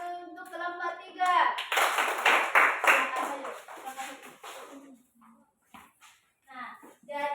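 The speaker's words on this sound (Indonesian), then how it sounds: "tepuk tangan dulu untuk kelompok 3" A classroom of children claps for a student group, a burst of broadband hand claps lasting a few seconds over children's chatter and voices, then fading as talking continues.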